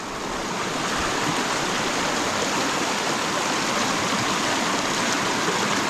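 A river flows steadily with a dense, continuous rushing roar, loud and close, with no voices over it.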